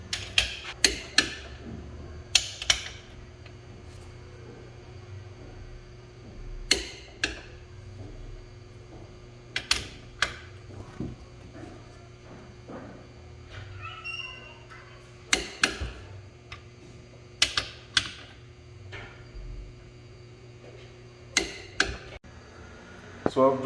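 Main bearing bolts on a BMW M10 engine being torqued to 60 Nm with a wrench: a series of sharp, close metallic clicks and taps spaced irregularly over steady low workshop hum.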